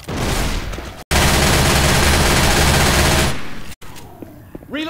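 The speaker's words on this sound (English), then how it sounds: "I'll take this here machine gun." A machine gun fires in Left 4 Dead 2, with a loud, fast continuous burst lasting a couple of seconds after a brief earlier volley, then short mechanical reload clicks and rattles.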